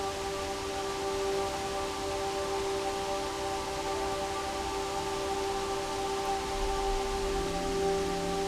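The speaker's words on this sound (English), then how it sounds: "Raining again." Steady autumn rain in northern Wisconsin hisses in an even, unbroken wash, with a faint constant hum underneath and no voices.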